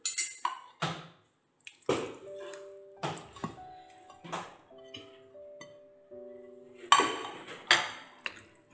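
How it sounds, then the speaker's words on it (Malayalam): Raw prawns go into a pot of simmering Kerala-style mango curry, with a series of clinks and scrapes of a utensil against the pot at an uneven pace and a soft bubbling hum underneath. "ഇനി നമുക്ക് ചെമ്മീൻ ഇട്ട് കൊടുക്കാം"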